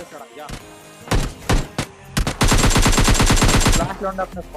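Gunfire in the mobile shooter PUBG Lite: a few single shots, then a rapid automatic burst of close, loud shots, with someone talking over parts of it.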